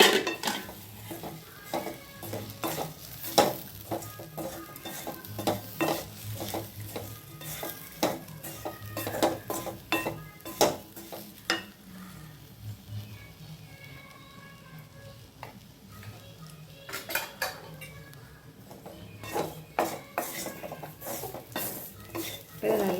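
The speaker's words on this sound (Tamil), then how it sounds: "இதை நல்லா வறுத்துட்டு சூடு பண்ணி இறக்கிக்கலாம்." Grated coconut with coriander and chili powder fries in a pan for a brinjal, raw mango and cowpea kuzhambu, with steady sizzling under repeated scraping and stirring strokes of a spoon against the pan.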